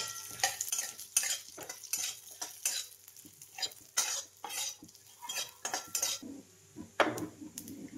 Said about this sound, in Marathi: हे थोडेसे मगज बी घेतलेत आणि बदाम घेतलेत, ते थोडेसे भाजून घेते